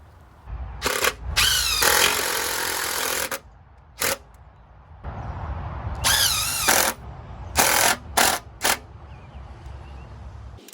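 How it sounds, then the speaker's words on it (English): An impact-style power tool tightens bolts and nuts on an exterior electrical subpanel enclosure mounted on plywood and a post, sounding loud and close in several buzzing bursts of varying length with short pauses between. "just tightening up those 2 lower bolts and nuts one final time"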